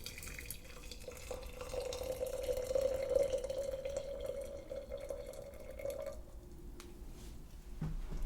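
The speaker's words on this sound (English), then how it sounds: "Fresh boiled water," A thin stream of freshly boiled water pours steadily into a cup of tea, the tone rising as it fills, then stops with a few small drips and clinks.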